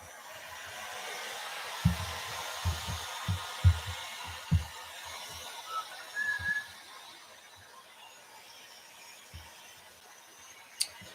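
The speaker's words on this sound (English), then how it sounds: "this is really, really wet now, so I'm going to go ahead and dry it." A hair dryer runs steadily on wet watercolor paint in an art journal, a constant airy whir with soft handling knocks and taps over it.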